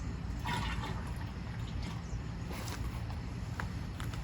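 Glyphosate herbicide pours into a backpack sprayer tank partly filled with water, a steady close liquid gurgle and trickle with faint splashes.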